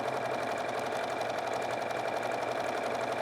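A sewing machine stitches a quarter inch seam, its steady rapid whirring motor running continuously and close up with no talking.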